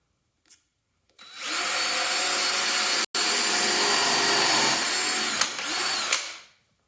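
Power drill boring into wood while building kayak stems for a Redfish Spring Run kayak kit, a loud steady whine running about five seconds with one brief cut-out partway through, close by and without talk.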